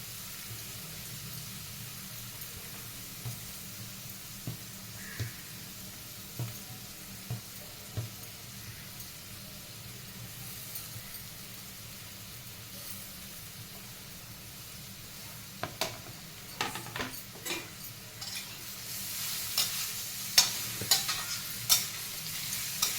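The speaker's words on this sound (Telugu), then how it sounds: "నెయ్యిలో కొంచెం ఇలా వేయించుకోవాలి." Papaya pieces fry in ghee for a halwa, a low steady sizzle under repeated clinks and scrapes of a spoon stirring, the stirring growing busier and louder toward the end, no one speaking.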